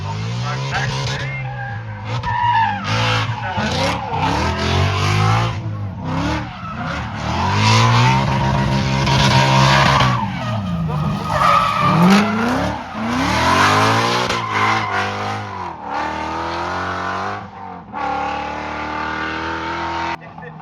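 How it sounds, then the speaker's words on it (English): A Ford Mustang drifting sideways down through Cascades at a drift event, its engine screaming up and down through loud revving sweeps as the tires skid, with smoke pouring off the car. "here comes the Ford Mustang again, down through Cascades, throws it sideways, lots of smoke"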